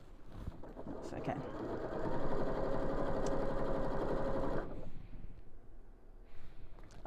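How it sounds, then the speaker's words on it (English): A home sewing machine runs steadily for a few seconds while birthday presents are stitched, its close whirring hum stopping abruptly, with a voice speaking nearby. "Sarah's sewing birthday presents."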